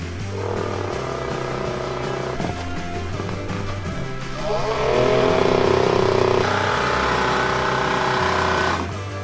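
A Polish two-stroke racing motorcycle, a Motocykl Wyścigowy, revs on the Radom circuit with a steady buzzing drone. Its pitch rises and the sound grows louder midway, then holds before settling again, with no talk over it.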